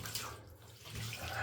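Water drains and splashes from a surface being cleared before scrubbing with bleach spray, a moderate, uneven watery rush with faint dripping.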